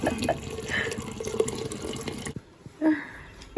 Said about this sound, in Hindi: पानी ऐड किया जा रहा है अभी स्वाद अनुसार